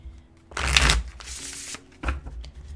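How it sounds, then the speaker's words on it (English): Tarot cards are shuffled live in two close, crisp riffling bursts, the first longer and louder, separated by a short pause and followed by quiet handling. "I want to shuffle here live with you."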